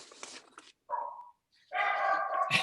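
A dog barks and yips nearby in a home during a planning and zoning meeting, short broken bursts followed by a longer, louder stretch of barking, with no talk over it.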